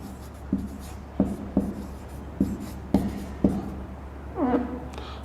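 Someone writes on a classroom board, producing a run of close, distinct tapping and scratching strokes at an irregular pace, with a faint hum underneath and a longer rubbing stroke near the end.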